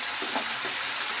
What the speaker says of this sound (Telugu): బాగా కలుపుతున్నాను